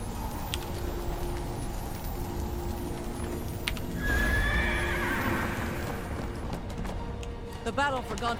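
Fire horse mount in the Neverwinter video game, neighing and whinnying with galloping hoofbeats over steady game background sound, with a voice talking over it.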